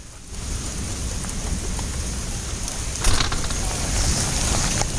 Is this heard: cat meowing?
no